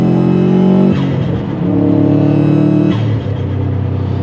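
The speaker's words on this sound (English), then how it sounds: "listen to those noises, man. That turbo sounds amazing. That's the tile blow-off valve" A Subaru WRX STI's turbocharged engine drones loudly with shifting pitch, broken by two brief whooshing blow-off valve releases between steady runs of engine tone.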